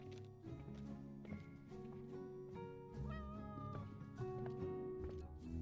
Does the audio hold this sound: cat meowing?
yes